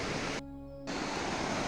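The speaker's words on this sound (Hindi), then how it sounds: "ये देखिए नदी, अलकनंदा नदी" The Alaknanda river flows and swirls in whirlpools near Devprayag, a steady broadband rush of water, loud and close, briefly dropping out midway before resuming.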